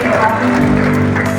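An audience applauds at an opening ceremony for a West Java Muhammadiyah school principals' training event, with a brief burst of clapping over a background of music or voices.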